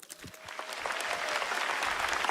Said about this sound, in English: Prompting the crowd to clap.